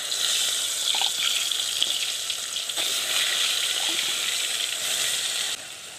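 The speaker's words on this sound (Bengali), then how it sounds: "এই যে মাছটা আমি ভেজে নিচ্ছি।" Fish fries in a pan with a steady, close sizzle and bubbling hiss, interrupted only by a few faint clinks and a slight drop in intensity near the end.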